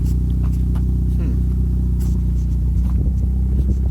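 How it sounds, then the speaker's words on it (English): A Pontiac Sunbird GT with a newly finished exhaust and chrome tip idles steadily with a deep, continuous low rumble, close and loud, with some light clatter and a brief rev near the end. "I wanted to show you, how good the exhaust sounds with it"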